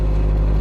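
A 2002 Saturn engine idling high at about 2,000 RPM, a loud, steady low drone with a rough, vibrating hum, close by and alone.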